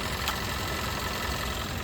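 A car engine idling steadily with its camshaft position sensors unplugged, a close, even mechanical rumble that holds a constant speed without dipping, with no talking.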